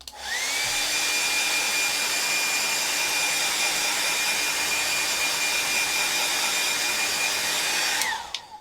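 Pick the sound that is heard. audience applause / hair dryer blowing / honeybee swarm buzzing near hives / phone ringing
hair dryer blowing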